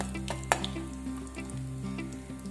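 Cumin seeds and asafoetida crackle and sizzle in hot oil, a steady close frying hiss with small pops, no voices.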